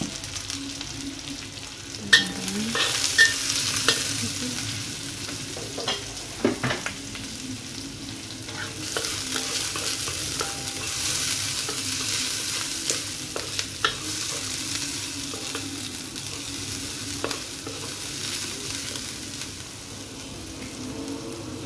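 Food sizzles steadily in oil in a pan, with a spatula scraping and clinking at intervals as it is stirred, close by and without talk, while red ingredients fry for an Indonesian dish.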